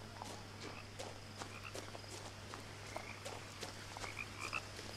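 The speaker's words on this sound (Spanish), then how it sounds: "El sonido de ranas." Frogs croak in a steady, soft chorus of repeated calls across a quiet outdoor scene in the video game What Remains of Edith Finch, with a constant low hum underneath.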